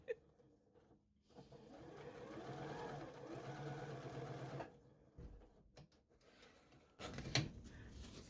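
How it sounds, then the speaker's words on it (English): A Janome JW8100 computerized sewing machine stitches in reverse for a backstitch, a close, steady whirring run of a few seconds, then stops amid quiet handling clicks and a brief louder burst near the end. "All right, so it did a backstitch,"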